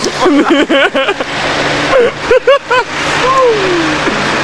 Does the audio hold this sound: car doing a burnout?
yes